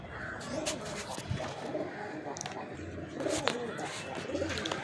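Fancy pigeons coo softly around a loft while some fly about. The low, repeated cooing comes with occasional wing flutters and faint background voices.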